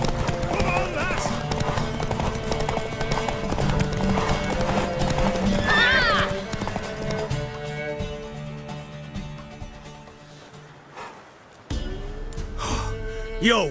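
Horses in The Witcher 3 clip-clop at a steady gallop and let out loud neighs and snorts, the hoofbeats fading partway through before resuming, with game dialogue spoken over the sounds.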